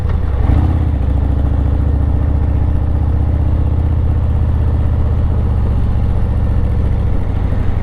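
A motorcycle rides along mountain roads, its engine a steady loud drone with a close rhythmic rumble that holds an even pitch, alone with no talk.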